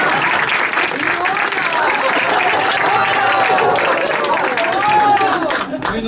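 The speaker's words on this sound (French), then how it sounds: "on va l'applaudir." An audience at a French comedy show applauds loudly and continuously, with some vocal cheering or exclamations riding over the clapping before it tapers at the end.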